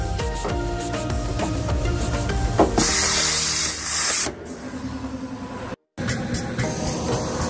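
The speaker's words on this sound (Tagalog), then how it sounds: "Kakabit na natin yung connector sa oil pan. Kakambitan na natin ng compressor air." Compressed air from a compressor line is hooked to an engine's oil pan connector, giving a loud steady hiss that rises sharply partway through, then falls away amid workshop noise with a brief dropout.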